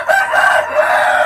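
Chickens in a coop cluck and crow, several loud close calls overlapping in quick succession, with no voices.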